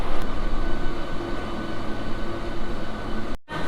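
A local train pulls into Belur Math station on the Howrah line, its loud, steady rumble and rolling clatter filling the air without pause, broken only by a brief dropout near the end.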